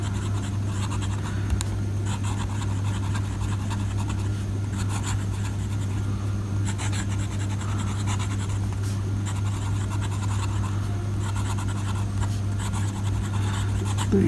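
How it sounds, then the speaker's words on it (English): A fine-nib Camlin SD fountain pen filled with Waterman Serenity Blue ink scratching steadily across paper, a continuous dry scratchy writing sound with slight rhythmic strokes over a constant low hum, close up and without talk. "let's write something"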